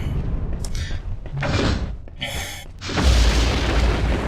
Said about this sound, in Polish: Drzwi się zamknęły.